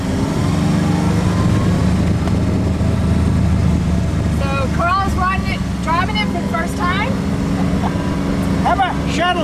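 Kawasaki MULE Pro-FXT utility vehicle drives with a steady low engine drone, while people talk over it and chirpy sounds come in toward the end.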